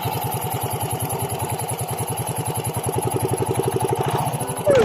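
A Yamaha Mio Gear 125 scooter engine runs at a steady, rapid putter close by, idling evenly before a sharper burst near the end.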